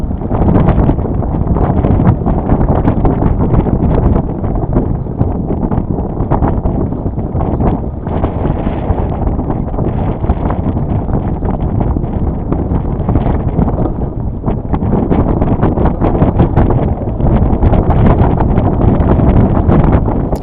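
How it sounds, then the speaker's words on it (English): Strong wind roars steadily across the microphone aboard a Potter 15 sailboat, with a loud continuous rushing buffet and no quieter gaps, and no voices in it. "And then the winds start picking up again."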